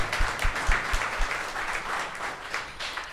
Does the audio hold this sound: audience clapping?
yes